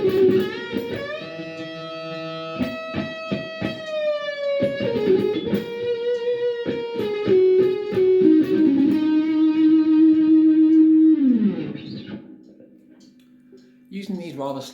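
A distorted lead phrase built on a polyrhythm is played up close: sustained bending notes over sharp rhythmic clicks, sliding down near the end, followed by a short quiet gap and a new note.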